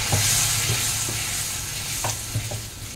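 A pan sizzles steadily as boiled chana dal is added and a spoon stirs and scrapes through it, with a few soft knocks against the pan.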